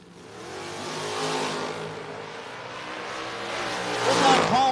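A no-box drag race car moves down the racetrack at a drag strip, a loud engine roar building and holding, with a rising squeal near the end.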